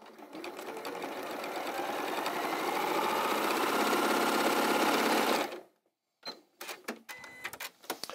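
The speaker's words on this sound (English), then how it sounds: "So I've sewn that now on the right-hand side, and then I'm going to sew the other one on the left-hand side." Quilt block pieces being stitched on a sewing machine, a fast rattling stitch run that builds and holds for about five seconds before stopping, followed by a few scattered clicks and handling knocks.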